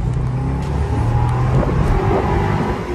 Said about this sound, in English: let's give it a little gas and see how she does